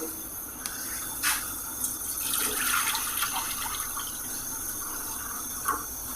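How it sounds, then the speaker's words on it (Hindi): Plenty of water poured from a container into a frying pan on a stove, a steady splashing, gurgling stream that swells in the middle and fades, fairly close with no speech. "ऊपर एक फ्राई पैन रख देंगे, इसमें ढेर सारा पानी ऐड कर देंगे।"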